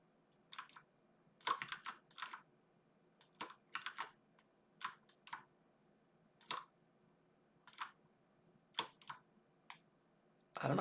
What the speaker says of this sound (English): Probably disable all of my mechanical keyboard sounds.